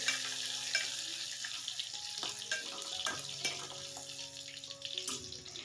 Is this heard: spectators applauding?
no